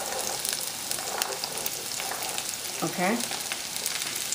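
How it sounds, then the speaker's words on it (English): Fresh cranberries dropped into a hot, flat pan set up a steady, bright sizzle that runs throughout, with a single short spoken word near the middle. "I'm just gonna throw the cranberries in there"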